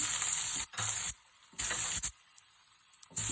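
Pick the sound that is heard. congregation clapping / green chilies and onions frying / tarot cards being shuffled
green chilies and onions frying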